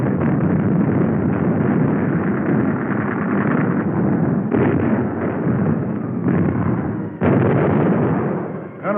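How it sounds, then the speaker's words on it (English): Naval artillery barrage from ships along the line shelling the Iwo Jima shore in 1945, a continuous dense rumble of heavy gunfire and blasts with several sharper bursts near 4.5, 6.3 and 7.2 seconds, loud throughout with no talk. "Ships all up and down the line joined in the barrage."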